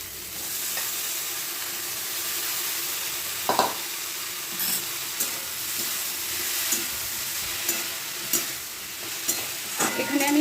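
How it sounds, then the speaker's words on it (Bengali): Long eggplant strips, cut like potato fries, fry in a pan for a spinach ghonto, giving a steady close sizzle broken by occasional stirring clatters, with no talking. "এখানে আমি বেগুনটাকে 5 মিনিট খুব ভালোভাবে একটু ভেজে নেব।"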